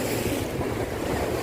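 Sea waves at a beach resort near Boracay, a steady broadband wash of surf mixed with wind rumbling against the microphone, continuous and fairly close with no voices.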